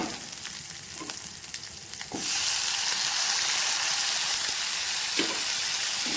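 Onions fry in a pan for a Tamil-style broad bean gravy, a soft sizzle that jumps to a louder, steady hiss partway through, with a few light stirring taps.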